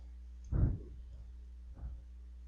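Two soft, close computer mouse clicks, a little over a second apart, sound during SolidWorks CAD work over a faint, steady background hum.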